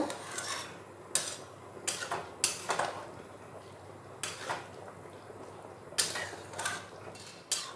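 A metal utensil stirs ground poppy seed paste mixed with water in a pan with potatoes and long beans, making repeated scraping and clinking strokes at an irregular rhythm, fairly close and quiet.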